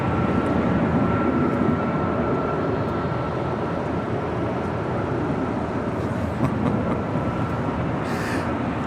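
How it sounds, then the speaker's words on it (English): A Qantas Airbus A380 is pushed back and towed toward a hangar at LAX, giving a steady, unbroken roar and rumble of jet and ground-vehicle noise that stays even and fairly loud throughout. "A380 now pushing back. That will be towed to the Qantas hangar"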